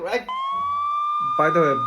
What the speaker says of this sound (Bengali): বাইরে পুলিশের গাড়ি সাউন্ড কেন